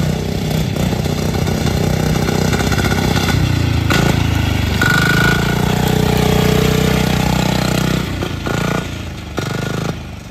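A diesel engine on a small mini truck go-kart idles and revs up close with a rough, loud drone, its pitch shifting as it works before cutting down near the end.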